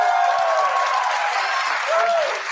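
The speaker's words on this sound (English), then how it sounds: "They're all clapping." A television studio audience claps in a sustained, dense burst of applause, loud and steady throughout with a slight swell near the end, crowd murmur blended in.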